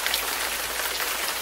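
Steady rain falls in a constant, even hiss of drops on surfaces, with no voices or other sounds over it.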